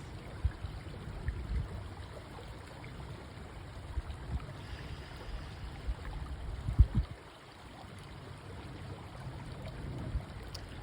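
Quiet, steady flow of stream water with soft trickling and babbling, plus a few faint knocks partway through.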